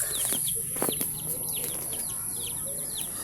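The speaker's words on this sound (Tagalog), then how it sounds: "And the other chickens are there also." Chickens roaming around a rural yard, with scattered clucks and chirps over a steady high hiss of insects and background noise, moderately distant.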